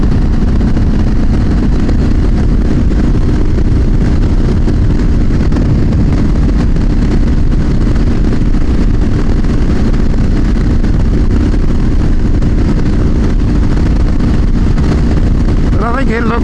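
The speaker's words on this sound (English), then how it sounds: "it makes a different tone because each cylinder has now got its own exhaust" Motorcycle engine running steadily through a homemade twin-pipe custom exhaust, each cylinder with its own pipe, giving a loud continuous rumble close by for the whole stretch.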